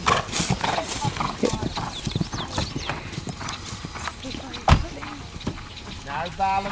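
Horse hooves clip-clop through a riding clinic session run by an eventing coach, a steady rhythmic beat close by, with a neigh and a coach's voice talking over the hoof falls.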